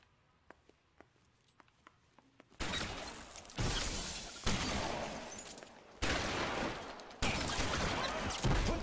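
Shotgun blasts from the video game L.A. Noire, a series of loud booming shots with heavy noisy tails, arriving roughly every second or so after a quieter stretch of faint clicks.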